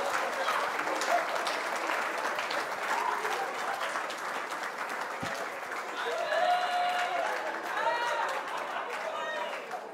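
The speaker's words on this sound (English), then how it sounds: "Everybody, please put your hands together for Kate Eddie." Sustained audience applause fills a medal awards night, with a dense steady wash of clapping, scattered cheers and crowd chatter continuing the whole time.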